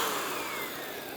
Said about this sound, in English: So we've got a little vacuum cleaner.